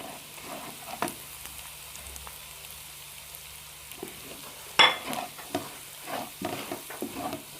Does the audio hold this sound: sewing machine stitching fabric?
no